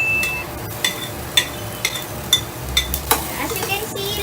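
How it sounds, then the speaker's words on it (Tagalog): Garlic sautéing in a frying pan for tuna spaghetti, a low steady sizzle broken by repeated clinks and scrapes of a utensil stirring against the pan, close and moderately loud, with no talking. "Gigisa lang natin to for at least a minute."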